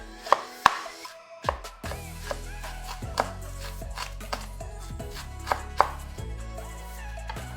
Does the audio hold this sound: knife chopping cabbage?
yes